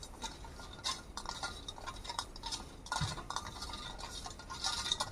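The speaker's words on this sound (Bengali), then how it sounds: "এইভাবে চামচ দিয়ে চিনিটা জলের সঙ্গে মিশিয়ে নেব।" A spoon stirs sugar into water in a vessel, giving quiet, irregular clinks and scrapes of metal against the sides, soft and close, with no voices.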